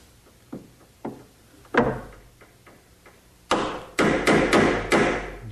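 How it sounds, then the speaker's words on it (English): A sharp chisel cutting a hinge mortise in hard oak for a bathroom vanity, a series of sharp knocks, first a few spaced taps, then heavier strikes in quick succession, close by. "just using a chisel, I'll remove the right amount of material."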